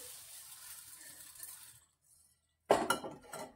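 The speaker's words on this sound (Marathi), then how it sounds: "आता मी हे पोहे घेऊन अशा प्रकारे रिकाम्या प्लेटमध्ये टाकून घेत आहे।" Roasted poha flakes are tipped into an empty plate with a brief, bright clattering rush near the end, after a stretch of soft low hiss and a short silence; no one speaks.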